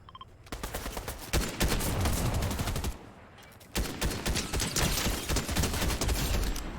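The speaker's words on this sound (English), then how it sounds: "Who just shot bullets?" Gunshots in the video game Fortnite: dense, loud automatic fire rattles almost continuously, with a brief lull in the middle before another sustained volley of rapid shots.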